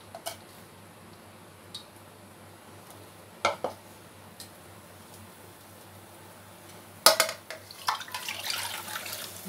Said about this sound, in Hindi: इसमें हम थोड़ा सा पानी डाल देते हैं।